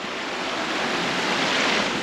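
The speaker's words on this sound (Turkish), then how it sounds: "şimdi birinci şelaleye geldik" A waterfall on a hillside trail rushes steadily, a loud broadband roar with no pauses and no voices.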